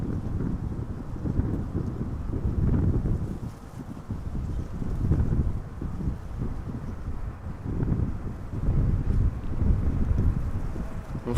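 Gusty crosswind buffeting a microphone at Amsterdam Schiphol airport, a low rumbling roar that surges and fades in waves, loud and close.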